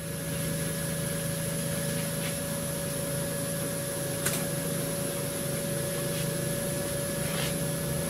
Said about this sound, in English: Give that smoke machine a whirl.